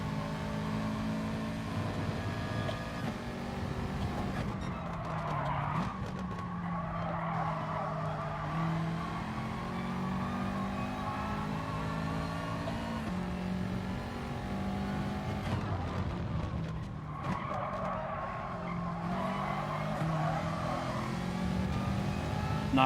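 Race cars in Gran Turismo Sport on a 4WD challenge: engines roar continuously with repeated tire squeals and skids as the cars drift through corners, loud and up close with no talking.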